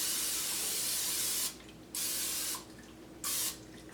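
Cooking spray hisses from a can onto an 8x8 glass baking pan in three close bursts, a long steady spray followed by two shorter ones, with no talking.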